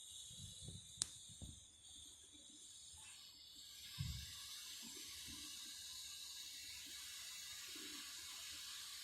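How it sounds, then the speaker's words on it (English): Steady broadband rush of water flowing into a home boiler as it is repressurised, constant and moderately loud, with a few low knocks and clunks near the start. "Boiler is filling with water."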